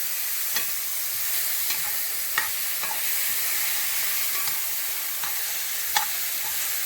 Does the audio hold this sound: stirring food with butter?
yes